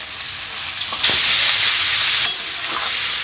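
Chopped vegetables and cauliflower stems fry in hot oil, a close, loud, steady sizzle that swells briefly in the middle and carries a few soft stirring clicks, with no talking.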